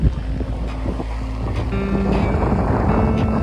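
A sailboat under way at sea in fine weather, a steady wash of wind and water rushing past close by, with low hull and rigging hum running continuously and no talking.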